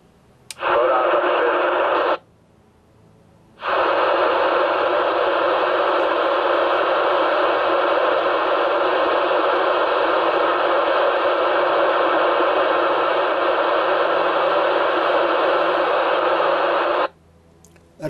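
Loud, continuous hiss of CB radio static with the squelch switched off fills the air, cutting out briefly near the start and again at the very end.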